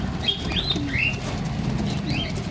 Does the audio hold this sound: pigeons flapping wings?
yes